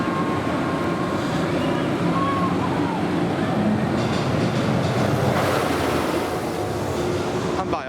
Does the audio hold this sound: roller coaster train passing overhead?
yes